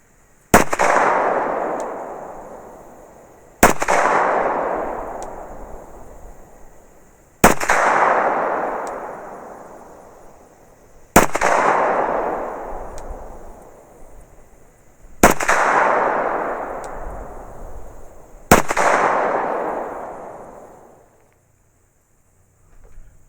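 Six separate gunshots from Polycase Inceptor 74-grain ARX cartridges, each a loud, sharp crack that fades into a long rolling echo, fired at a slow, even pace of roughly three to four seconds apart.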